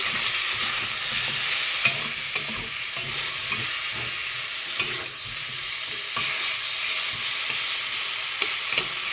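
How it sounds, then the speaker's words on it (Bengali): Ground spices including chilli powder, garam masala and cumin fry and get stirred in a pan for haluya fish curry, giving a steady close sizzle with scattered spoon scrapes and taps, and no voices. "মশলাগুলো ঢেলে দেবো, একটু কষিয়ে নেব"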